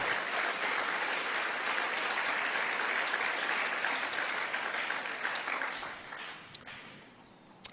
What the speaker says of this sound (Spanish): Den un aplauso fuerte,